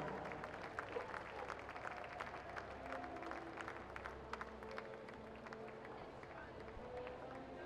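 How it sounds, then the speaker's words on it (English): Faint, distant crowd applause for the top three finishers in the men's 50 freestyle at a junior national swimming championship awards ceremony, a steady patter of clapping throughout, with voices in the background. "how about a round of applause for your top three here in the men's 50 freestyle"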